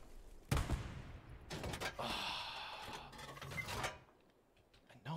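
Gunfire in the World War II shooter Hell Let Loose: a sharp shot followed by several bursts of rapid firing over about three seconds, moderately loud, then a quieter tail.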